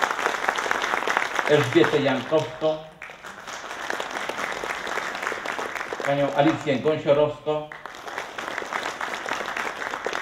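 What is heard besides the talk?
audience applause at award ceremony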